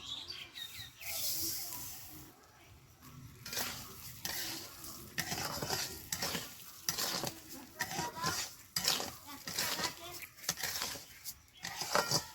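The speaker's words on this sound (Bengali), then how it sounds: "ঘি গরম হয়েছে এবার আমি চাল গরম ঘিয়ে দিয়ে দিব দিয়ে চালটা ভালো করে কষে নেব" Rice stirred and fried in hot ghee in a wok, rhythmic scraping and rustling strokes of a spatula against metal over a soft sizzle, close and fairly quiet.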